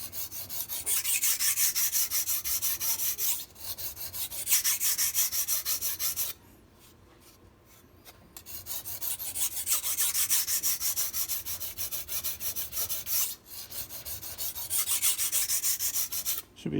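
A MAC chef knife being sharpened on a stone, rhythmic rasping strokes repeating in long close-up passes, broken by a brief pause midway and a couple of short gaps, with no talking.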